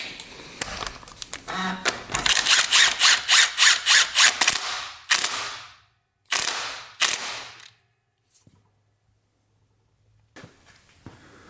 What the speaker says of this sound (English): we got the flywheel torqued down here